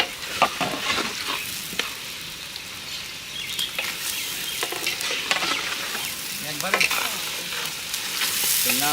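Hilsa fish and onion hit hot oil in a village kitchen, giving a loud, continuous sizzle with crackling pops and scraping stirs throughout.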